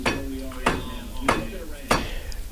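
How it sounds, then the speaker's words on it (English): Four sharp metallic hammer blows ring out at roughly even intervals against the differential of a 1985 Honda Big Red 250ES ATC, struck to free it from the swing arm, close and loud with workshop background between hits. "Beat on the differential a little bit, see if we can get it loose off of the swing arm."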